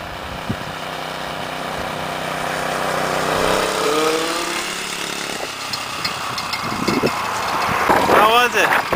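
A homemade mini bike engine buzzes steadily as the bike rides down the road, rising and falling in pitch at a moderate distance, while people talk and shout nearby.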